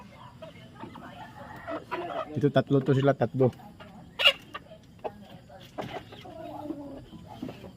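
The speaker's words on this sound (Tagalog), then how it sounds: "Medyo nakaipon-ipon na rin ang mga manok ko." Backyard chickens cluck in a burst of short calls amid soft rustling, with someone speaking near the flock.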